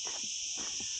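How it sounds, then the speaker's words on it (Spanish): Continuous high, steady insect drone of a cicada sounding throughout, loud and unbroken, with faint low rustles and footstep-like bumps underneath. "acompañado por la adorable chicharra"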